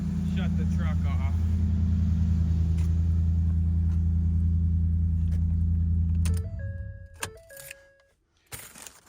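A truck engine idles with a steady low rumble for several seconds before cutting off, leaving a few clicks, beeps and small clatters in the quiet that follows.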